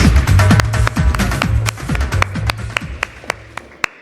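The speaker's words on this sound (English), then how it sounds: "Big moment, bigger applause." Applause breaks out from an audience at the CarPhD Awards 2026 ceremony for a dealership team, a dense round of many clapping hands that thins to a few scattered, distinct claps toward the end.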